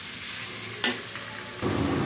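Fried potatoes and pointed gourd sautéed with spices in a pan: a soft sizzle, a sharp clack of the spoon, then a louder burst of frying as the pieces are stirred in.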